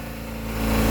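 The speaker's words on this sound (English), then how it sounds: "the engine is running and land is in sight" A boat engine runs steadily on a sailing passage from George Town toward the Crooked Islands while having engine issues, a continuous low droning hum that grows slightly louder toward the end.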